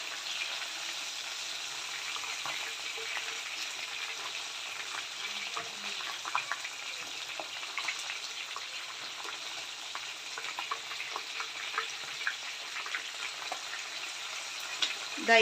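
Kerala-style mackerel fries in coconut oil with curry leaves, a soft, continuous sizzle and spatter with scattered sharp pops, fairly faint and steady, with one louder crackle at the very end.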